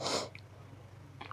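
A single quick sneeze bursts out at the start, followed by faint breathing and small sounds, close and fairly quiet.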